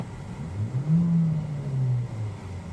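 A 2020 Kia Forte GT six-speed manual with a 1.6-liter turbo engine and upgraded exhaust revs briefly, a low droning rise and fall heard alone and close.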